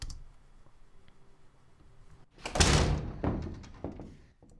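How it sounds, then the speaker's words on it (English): A door sound effect from a film's location recording plays alone: a quiet stretch of handling, then a loud latch clunk and thud with a second click and softer knock after it, close and dry. "These include things like the doors, which we could listen to by"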